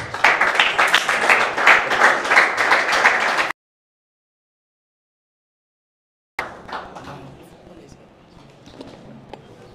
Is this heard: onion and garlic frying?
no